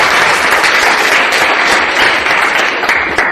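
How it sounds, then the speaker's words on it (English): Loud, dense applause from a group at a real estate brokers' gathering honoring top sales staff, a thick, continuous roar of many hands clapping up close with no talk. "Guys, can we have a round of applause,"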